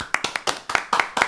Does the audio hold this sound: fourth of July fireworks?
no